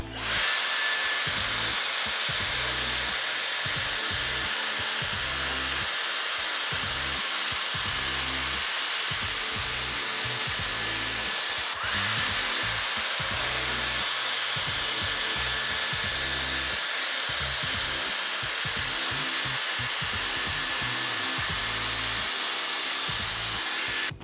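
A Dyson Airstrait hair straightener runs in wet mode, blowing a loud, steady airflow hiss close by for the whole stretch, with a faint rhythmic rustle as it passes through hair.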